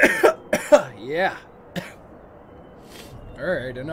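Several harsh, close coughs and throat-clearing sounds come in quick bursts, followed by a strained vocal groan.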